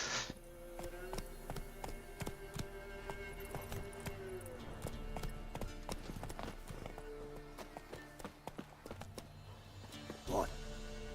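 Roach, the horse in Witcher 3, trots along with steady clip-clop hoofbeats over ground, close and rhythmic, while a voice talks over the top.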